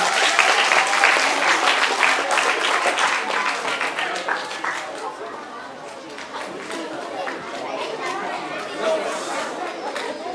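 Loud applause from an audience of pupils and guests at a maths festival, mixed with crowd chatter, strongest at first and easing off into a murmur of talk and scattered clapping.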